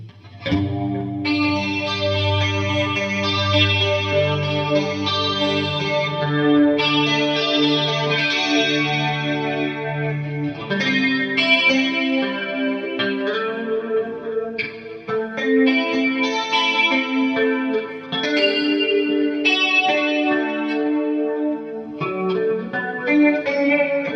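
Electric guitar with an 80s-style clean tone through AmpliTube 5, played with a long delay effect so notes and chords repeat and smear into a shimmering, sustained wash; no voices.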